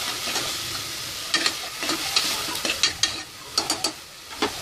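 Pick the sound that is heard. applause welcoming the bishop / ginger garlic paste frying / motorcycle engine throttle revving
ginger garlic paste frying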